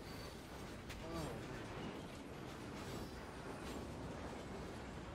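Train rolling along in the Call of Duty: Ghosts campaign finale, a steady rumbling wash with faint clatter, mixed under game effects and scattered voices.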